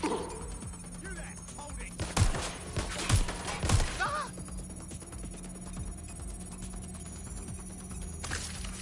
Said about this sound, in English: I'm pinned down. I'm taking fire.